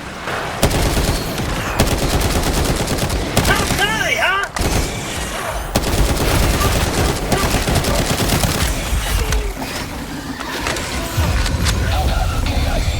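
Rapid bursts of automatic gunfire rattle almost continuously, mixed with heavy booms and explosions in the game Helldivers 2; a voice briefly speaks amid the shooting.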